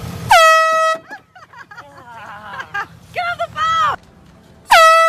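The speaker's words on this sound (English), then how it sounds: "I fucking love air horn jump scares." Blaring air horn blasts used in a jump-scare prank, one loud burst at the start and another at the end, with startled vocal reactions and commotion between them.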